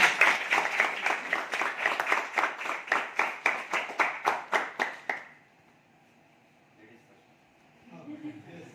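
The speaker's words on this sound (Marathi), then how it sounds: "त्यांच्यासाठी एकदा जोरदार टाळ्या" Rhythmic, evenly paced unison clapping from a crowd at a celebration event lasts about five seconds and stops sharply, followed by quiet room tone and a faint voice at the end.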